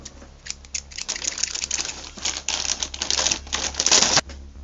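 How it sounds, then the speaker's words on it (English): Scissors snip apart plastic model kit parts for an Infinity Gauntlet build, a run of close, crisp clicking cuts at an irregular rhythm for several seconds with no talking. "scissors!"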